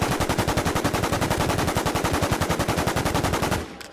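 Rapid automatic gunfire from the video game WarZ rattles in a sustained, evenly spaced burst of dozens of loud close shots, stopping abruptly near the end.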